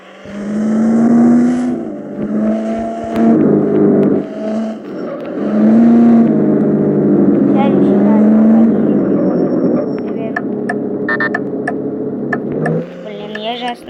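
A car pulls away in the driving video game Car Driving School, its engine droning steadily and shifting in pitch throughout while someone talks over it, with a few ticking clicks near the end.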